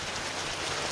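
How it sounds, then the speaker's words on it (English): Rain falls as a steady, soft hiss for about a second, even and fairly faint with no other sounds. "Why is it raining?"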